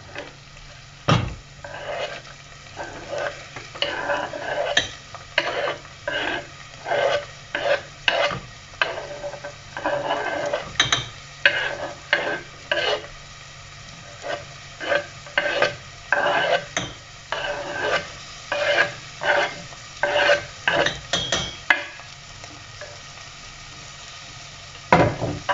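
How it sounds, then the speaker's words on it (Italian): Pumpkin pieces added to a pan and stirred, with repeated scraping and clattering of a utensil over a soft sizzle, in irregular bursts throughout. "Ora aggiungo la zucca."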